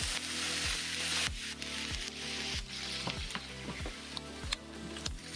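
Oil and vegetables sizzling on a hot Napoleon Rogue XT 425 plancha griddle, a steady crackling hiss broken by repeated scraping strokes of a spatula, close and moderately quiet, with no talk.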